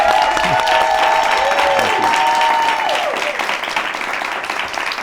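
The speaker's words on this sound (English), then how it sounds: "clap for Representative Lashawn Ford" An audience applauds loudly for a state representative on a talk show, dense steady clapping with whoops and voices rising through it, fading slightly toward the end.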